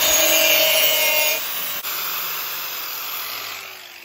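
Steel blade edge on a farm implement being sharpened, a steady abrasive grinding rasp that runs close and loud for over a second, then continues softer and even through the rest of the clip.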